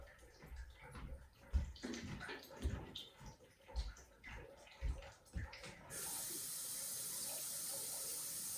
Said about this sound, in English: I'm going to fill this up with water really quick.